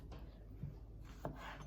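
A sharp knife chops vegetables on a cutting board, giving a few soft, faint taps spaced about half a second apart against a quiet room hum.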